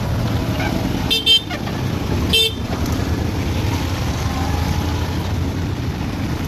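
Traffic rolls past on a rain-wet road with a continuous wash of engine and tyre noise. Two short horn toots cut through early on, then the steady rush continues.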